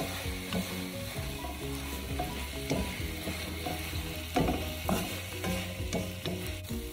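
Sweet vermicelli cooks in a pan with a continuous crackling sizzle while a utensil stirs and scrapes repeatedly, giving steady medium-level clatter throughout with no talking.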